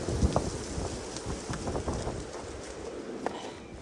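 Wind gusting on the Appalachian Trail near a shelter and tent sites, a broad steady rushing roar with a few brief knocks, continuous and fairly close, with no talking.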